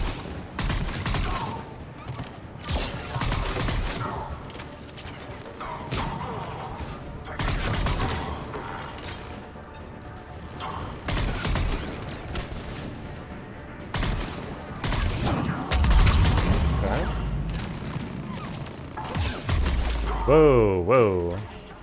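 Gunfire from a sci-fi shooter game, Mass Effect 3, in repeated bursts and single shots with mechanical clanks, loud and close across the whole stretch, with some talk in between.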